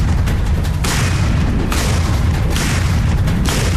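A tank cannon fires in Normandy fighting, with a loud, dense boom and rumble that fills the whole clip, cut by repeated blasts and no clear pauses.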